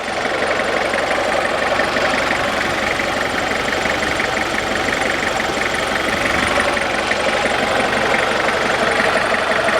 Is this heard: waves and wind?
no